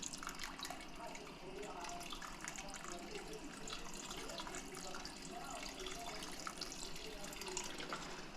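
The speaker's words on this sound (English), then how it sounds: "of our beef broth to cover the noodles. We're going to go in with about 16 more ounces." Beef broth pours steadily over noodles in a cooking pot, a continuous close liquid splashing and trickling that runs the whole time at fairly low level.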